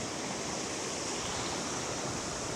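Waves wash continuously against the shore close by as the tide goes out, a dense, even hiss of water with no voices.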